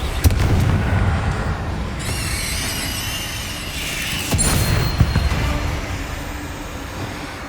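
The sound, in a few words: Bombarda and Confringo spell explosions in video game Hogwarts Legacy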